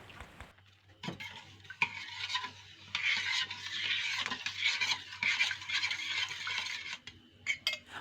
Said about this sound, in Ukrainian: Гарненько все перемішую і ставлю на вогонь